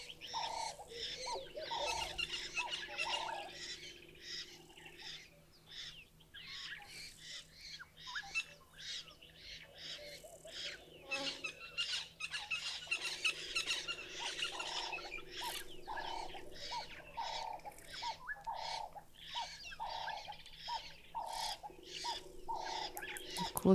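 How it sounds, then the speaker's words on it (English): Buffalo weavers call from their nesting tree above a waterhole, a steady stream of chattering, repeated chirps at moderate distance with faint background ambience throughout. "the birds we can hear right now is right above us, the buffalo weavers"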